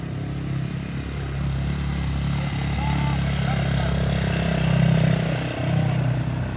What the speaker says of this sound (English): See, lots of motorcycles.